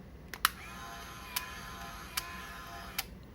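A Konica MG/D film camera springs into action as its lid closes: a sharp click, then a faint motor whir broken by a few evenly spaced mechanical ticks, close and quiet.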